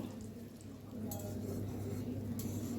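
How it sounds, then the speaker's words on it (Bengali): Spices gently stirred in a hot pan while cooking kabuli chana: a soft, low sizzle with quiet scraping and light metallic clinks of a spoon against the pan. "দিয়ে হালকা হাতে একটু নেড়ে নেব"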